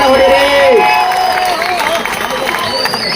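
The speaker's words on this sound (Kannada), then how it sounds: "ಜೋರಾದ ಚಪ್ಪಾಳೆ ಹೊಡಿರಿ." A large outdoor crowd at a support rally claps and cheers loudly and continuously, with voices and babble mixed into the din.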